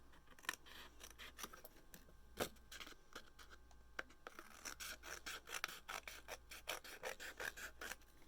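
Paper card for a spring greeting card craft kit is trimmed with scissors, giving a quiet series of crisp snips and scraping rasps at an irregular pace, faster toward the end.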